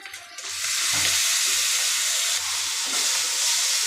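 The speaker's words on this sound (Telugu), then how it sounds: "ఒక నిమిషం బాగా ఫ్రై కావాలి ఇప్పుడు ఇందాక రుబ్బుకున్న మసాలా" Freshly ground masala with coriander powder frying in a pan for mutton curry, making a loud, constant sizzle and hiss with a few brief stirring scrapes and no voices.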